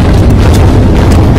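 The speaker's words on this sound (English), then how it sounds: "There is an explosion." Explosion in a skibidi toilet animation, a loud, sustained deep boom with rumbling low-end roar and no talk over it.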